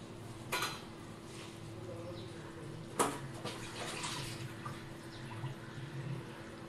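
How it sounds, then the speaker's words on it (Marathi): A Khandeshi vegetable curry with dumplings simmering in a kadhai, a faint, steady bubbling and watery churn broken by two sharp metallic clanks. "हे बघा, भाजी छान उकळती आहे."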